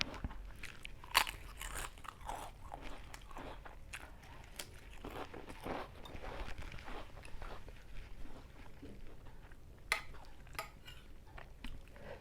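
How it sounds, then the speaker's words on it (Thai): Someone eating spicy Thai mixed papaya salad with rice noodles, quiet close crunchy bites and chewing with occasional utensil clinks, steady and intimate over a faint room background. "กินข้าวเที่ยงจ้ะ"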